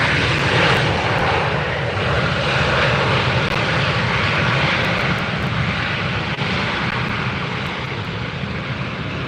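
A jet airliner departs from LAX, its engines roaring loudly and steadily close by with a broad, continuous rush that holds throughout, with no talk over it.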